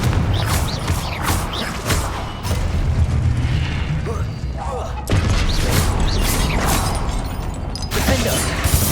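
Confringo blasting spells going off in Hogwarts Legacy combat, loud booming bursts and crashes over dense, continuous game noise, with a voice speaking over the action.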